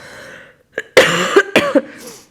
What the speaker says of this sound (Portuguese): Tosse seca.